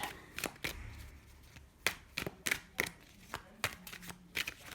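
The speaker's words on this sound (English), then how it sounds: "Let's pull some more cards for the initial spread." Tarot cards shuffled and drawn for a reading: a close, crisp run of riffling snaps and slaps in an uneven rhythm, quiet and with no talking over it.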